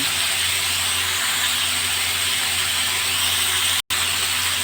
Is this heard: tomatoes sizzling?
yes